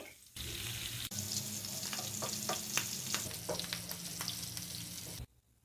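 Red chillies and cumin seeds frying in hot oil for a tempering, giving a loud, continuous close sizzle with crackling pops and scraping stirs, ending abruptly into quiet.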